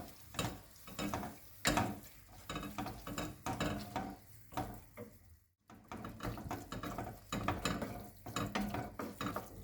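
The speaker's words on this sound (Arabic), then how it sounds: "غادي نخلطهم مزيان" Chicken pieces and softened onion are stirred together in a cooking pot. A utensil scrapes and clinks against the pot in repeated strokes over a low sizzle, with one short pause midway and no talking.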